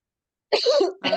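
A couple of harsh, close coughs, a short burst followed by another after a brief pause, with no talking.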